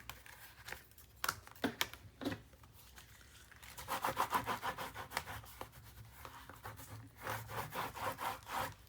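A burnishing tool is rubbed quickly over paper pieces on a 9 x 9 paper-craft mini album panel. Close, dry rubbing strokes come in quick bursts, then run together in sustained back-and-forth passes.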